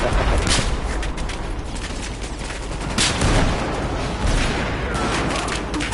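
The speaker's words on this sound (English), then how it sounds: "Loads of airbursts coming our way" Airburst explosions and gunfire in Battlefield 4, a chaotic barrage of rumbling booms and rattling shots layered into constant battle noise, loud and close, with heavier blasts punching through at intervals.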